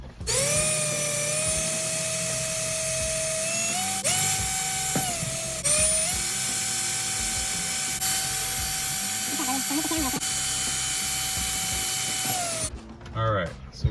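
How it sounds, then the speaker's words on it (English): A power drill with a 5/16 bit bores holes while fitting a dashboard phone mount in a Toyota Land Cruiser 100 Series, a loud sustained whine that pauses briefly and shifts pitch, then stops, with a voice talking at the end. "Next up, we'll drill the holes. So I want to say this is a 5/16 drill bit."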